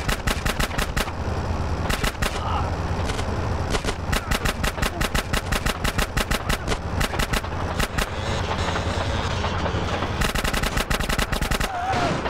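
Automatic gunfire in GTA San Andreas, loud rapid bursts of shots repeating in close succession with brief gaps, heard near and alone.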